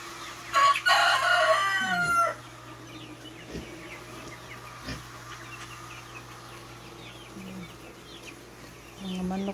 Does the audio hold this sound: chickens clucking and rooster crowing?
yes